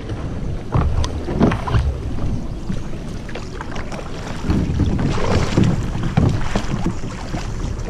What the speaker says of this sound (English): I'm gonna hit these rapids real quick.